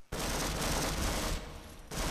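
Loud, continuous automatic gunfire in the game Half-Life Source, a dense rapid burst that fills the whole moment, briefly thinning before resuming.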